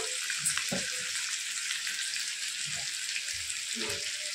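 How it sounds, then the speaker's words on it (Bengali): Tomato with spices fries in a pan, a steady hiss of sizzling oil with scattered soft scrapes and taps of stirring, close by. "টমেটোটাও বেশ কিছুক্ষণ একটু নাড়িয়ে নেব"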